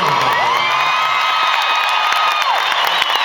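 Crowd cheering, whistling and whooping for the mariachi band, a loud, dense and steady roar of many voices throughout with scattered claps beneath.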